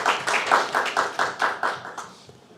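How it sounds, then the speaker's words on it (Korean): A church congregation claps together in rhythmic unison, about a dozen evenly spaced, crisp claps that fade toward the end. "우리 응원의 박수 한번 칩시다."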